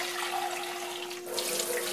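A bath tap pours a steady, close stream of water during rinsing, a continuous hiss and splash with a brief dip midway and no talk over it.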